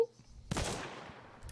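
A single sharp gunshot from a weapon in a shooter video game, sudden and loud, followed by a long decaying rumble and faint clicks near the end.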